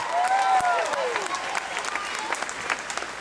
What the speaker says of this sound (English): Give Nancy Weber a big round of applause.